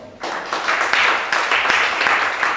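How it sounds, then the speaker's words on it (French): An audience in a church service claps together in a dense, steady burst of applause that starts abruptly and keeps going, fairly close and loud. "Acclamez chacun."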